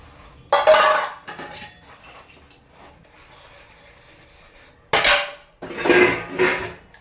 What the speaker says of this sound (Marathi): हे बघा झाली आहे माझी सगळी भांडे घासून